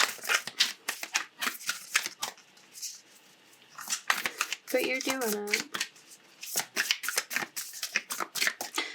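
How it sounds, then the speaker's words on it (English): Tarot cards being shuffled by hand, a rapid crisp series of riffling and flicking bursts, close and repeated throughout, while someone talks over them. "I don't know why I'm shuffling these cards."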